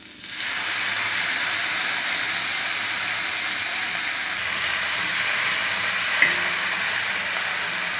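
Masala frying in butter on a hot tawa for pav bhaji, giving a steady, close, broadband sizzle that holds level throughout with no speech.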